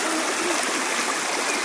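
Abundant river water flows in Sucultés, Guatemala, making a close, constant rushing and gurgling hiss that stays steady and loud throughout, with no voices.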